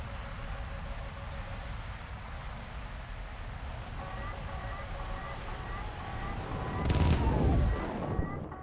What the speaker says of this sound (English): There's the guy shooting at me.